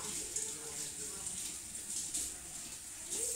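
Salmon fillet being rinsed under a running kitchen tap, a steady close hiss of flowing water with a few splashy surges and a brief bright spatter near the end.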